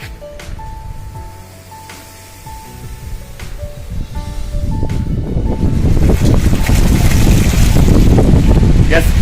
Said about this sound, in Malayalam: നല്ല കാറ്റ്, 24 hours നല്ല ബ്രീസാണ്